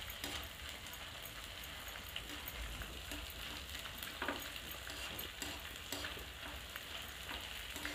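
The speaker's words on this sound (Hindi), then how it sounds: "अब हम गरम घी में इनको गोंद को छोड़ देंगे।" Gond (edible gum) frying in hot ghee while being stirred, a steady bubbling sizzle with scraping stir strokes, close and continuous with no talk.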